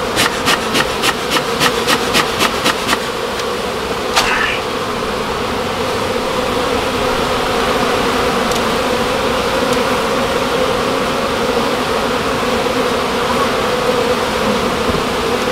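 Honeybees buzz around honeycomb being pried from a hive, a dense, steady drone close by, with a series of quick scraping knocks at the start and no talk.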